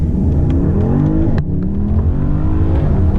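A 2018 Porsche Panamera Turbo accelerates hard from inside the cabin, its engine roaring loud and steady through rising revs with a quick upshift midway, then pulling on strongly.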